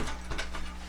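A screwdriver tightening a screw into glass shower door hardware gives a quick ratcheting, clicking mechanical sound, close and continuous for about a second, with no voices.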